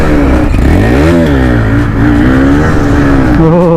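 A motorcycle under hard throttle at close range, its engine note rising and falling with steady revving and acceleration across the whole stretch, loud and continuous with no talk.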